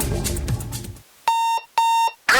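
A radio ad for Hardee's breakfast opens with a burst of noise, then an alarm clock beeps in two long steady electronic tones separated by short gaps, loud and clean.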